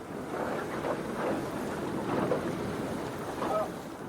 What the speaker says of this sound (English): Late morning, the boats return to the island.